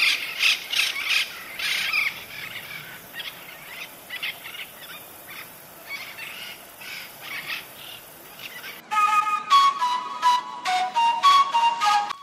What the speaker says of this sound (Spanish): Proteger al loro orejiamarillo es preservar un tesoro único de los Andes.